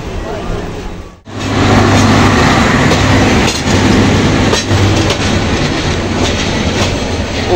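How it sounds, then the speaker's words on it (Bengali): Upaban Jayantika Express intercity train from Dhaka running past at Kulaura junction, a loud continuous rumble with rhythmic clickety-clack of wheels on rails, close by and sustained after a sudden onset. "আন্তনগর জয়ন্তিকা এক্সপ্রেস"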